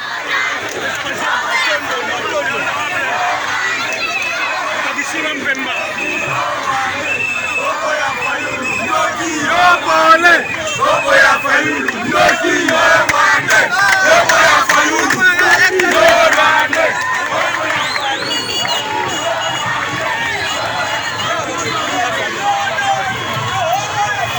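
A large crowd of supporters roars, chants and cheers together outdoors, a dense continuous wall of voices that swells louder midway and stays sustained throughout.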